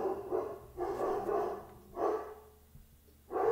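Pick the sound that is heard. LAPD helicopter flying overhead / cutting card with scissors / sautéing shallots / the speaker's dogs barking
the speaker's dogs barking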